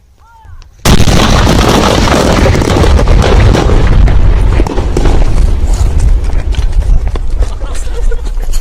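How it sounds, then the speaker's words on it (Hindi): A sudden massive explosion of explosive material erupts after a brief quiet moment, shaking the ground and followed by a sustained loud rumbling roar that continues without pause. "आप समझ सकते हैं कि ये धमाका कितना जोरदार था"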